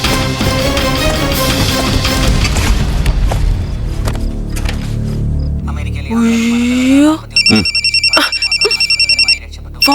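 A telephone rings in a film scene, its repeated electronic trill pulsing steadily in the final seconds after loud music and a thud, with a voice briefly audible.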